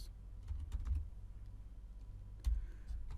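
Someone types on a computer keyboard, a handful of quiet, irregular clicking keystrokes with a short pause midway, close and faint over a low background hum.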